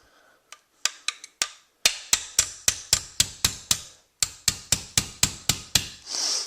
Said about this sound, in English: we're just going to tap our cartridge guide in place